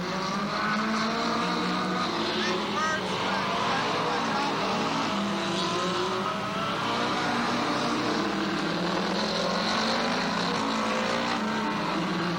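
Race cars roar around the Speedrome oval in a steady, loud, continuous engine drone, with a race announcer calling positions over the noise.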